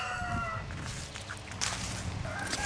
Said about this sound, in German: Mal schauen, wie viele Hühner mir folgen, wenn ich mich umdrehe.